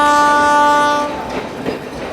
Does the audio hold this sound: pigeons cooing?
no